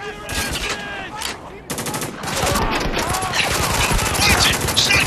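Gunfire in the video game Spec Ops The Line: loud, continuous rapid bursts of close automatic fire with scattered single shots, dense and overlapping throughout, with voices mixed in.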